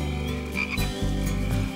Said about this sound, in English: You can hear the froggies singing.